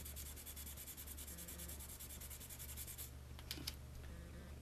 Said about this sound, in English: right now I'm sanding off the SY on systems